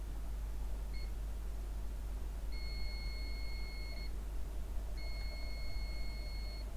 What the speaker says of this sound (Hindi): तो यहाँ पे देख सकते हैं बजर बज रहा है।